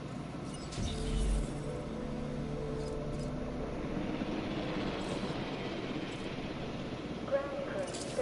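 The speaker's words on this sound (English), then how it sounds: "Ground crew, stand by for helicopter arrival." Helicopter arriving in the video game Jurassic World Evolution, a steady low rotor rumble that builds and holds under a voice talking throughout.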